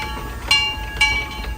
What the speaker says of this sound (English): Look at that cool train.